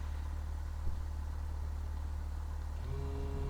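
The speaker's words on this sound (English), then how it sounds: "Engine's running" A Cessna 172 engine idles in Flight Simulator X with a steady low droning hum, continuous and even, plus a soft click near the start and a faint rising tone toward the end.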